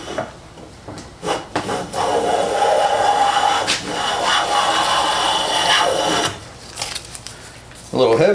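A freshly sharpened blade, likely a plane, cutting wood shavings, a steady rasping swish lasting several seconds between shorter scrapes at the start and end, close and fairly loud, with someone speaking briefly.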